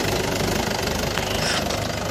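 A small remote-control mini toy tractor runs with a steady buzzing, knocking motor hum at close range, alone and fairly quiet.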